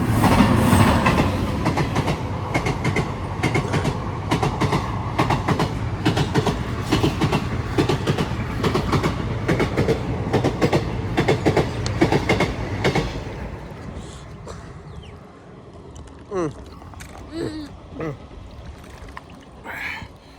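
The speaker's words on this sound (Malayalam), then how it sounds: "നമ്മുടെ തൊട്ട് മേളിൽ കൂടെ ട്രെയിൻ പോകണ്ട." A train rumbles loudly close overhead with dense clattering of wheels, then fades away, leaving scattered knocks and quieter sounds afterward.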